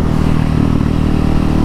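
Husqvarna 701 Supermoto single-cylinder motorcycle with a Wings exhaust revving steadily during a wheelie attempt, a loud, close, continuous engine drone with no talk.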